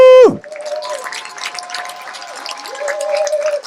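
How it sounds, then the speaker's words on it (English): An audience at a talk claps and cheers after being asked to stand, with a sharp whoop at the start followed by a steady wash of applause and a few calls over it. "Stand up and give a round of applause for that."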